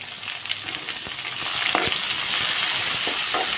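Finely chopped onions and curry leaves frying in hot oil, a loud continuous sizzle that swells partway through, with occasional scrapes of stirring and no voices.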